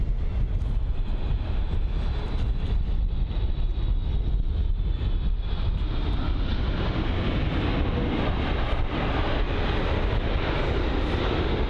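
An Emirates Airbus A380-800 in Destination Dubai livery departs London Heathrow, its loud, steady jet roar sustained throughout with no talk over it.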